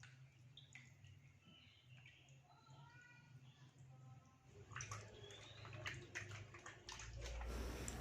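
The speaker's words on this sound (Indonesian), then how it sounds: "Ini aku bersihin dulu ayamnya." Raw chicken is washed under steady running water at a home kitchen sink, the splashing growing louder and fuller after the midpoint, with a faint voice and light chirps in the background early on.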